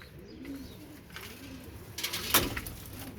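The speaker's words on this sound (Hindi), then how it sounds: "ये काले मुंह वाला बड़ा कबूतर है ये" A big black-faced teddy pigeon and its companions coo in low, soft repeated rolls, with a brief flutter or rustle near the end, recorded close by without talk.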